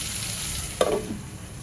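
Onions with a pinch of salt frying in a pan for a Marathi onion-coriander sukka zunka, a steady soft sizzle running throughout with a brief louder crackle midway.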